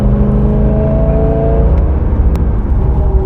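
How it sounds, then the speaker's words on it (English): Interior drone of a Corvette C6 Z06 cruising in fifth gear on the Nürburgring: a steady, loud engine hum with layered harmonic tones and road rumble, holding even throughout with no sharp revs. "we're now cruising 5th gear and we're still doing quite some nice speeds"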